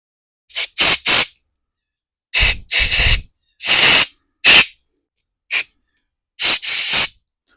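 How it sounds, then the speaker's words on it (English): Carb cleaner sprays in about seven short, sharp hissing bursts, some single and some doubled, onto a carburetor part from a Craftsman snowblower with a Briggs and Stratton engine, with clear silence between the sprays. "spray this a little bit, clean it up"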